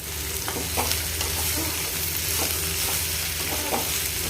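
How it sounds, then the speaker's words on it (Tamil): Fresh flat beans (avarakkai) frying in a clay pot, a steady close sizzle with occasional scraping stirs of a spoon against the pot, no voices. "நல்லா வதக்கு வதக்குன்னு வதக்கியாச்சு"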